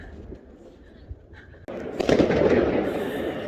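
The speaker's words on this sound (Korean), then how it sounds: "여러분 여기저기에서 지금 폭죽 터지고 난리 났어요." New Year fireworks in Moscow burst suddenly and loudly, then a dense crackling barrage of explosions keeps going, with distant pops before it.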